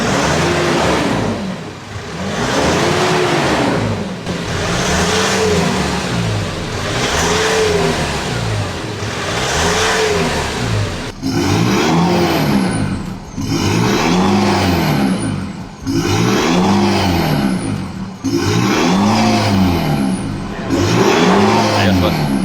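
A Nissan Navara Pro 4X fitted with a Spitfire Thunder muffler and Borla polished exhaust tips revs repeatedly, loud and close, each blip rising and falling in a regular rhythm of throttle bursts.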